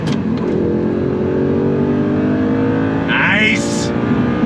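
The V8 of a 2009 Audi R8 with a 6-speed manual revs hard toward 8,000 RPM, a loud, close, continuous roar rising in pitch and then easing off near the end.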